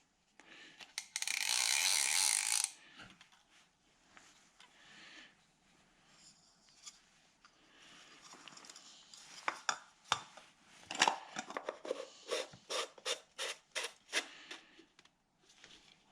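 A vintage Zebco 808 fishing reel gets its back cover reassembled by hand, starting with a brief loud rushing burst and then a run of close, small metallic clicks, taps and ratcheting ticks that grow busier toward the end.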